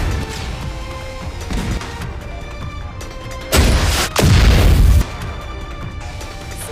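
Heavy artillery explosions from the video game NIKKE: The Goddess of Victory land as two back-to-back booming crashes, loud and rumbling, that cut through the steady game soundscape.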